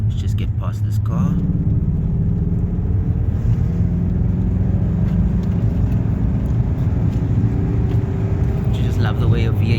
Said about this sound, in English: Love the way a V8 goes up a hill.